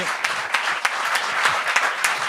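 An audience applauds a stand-up comedian on a televised amateur comedy show, a lively crowd clapping steadily with a few sharper individual claps standing out, close and moderately loud without speech.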